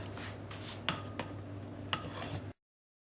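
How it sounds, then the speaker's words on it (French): Flour being stirred into cake batter in a bowl for a Christmas yule log, with soft continuous scraping and a few sharper utensil taps against the bowl, quiet and close. "je vais incorporer ma farine en remuant délicatement"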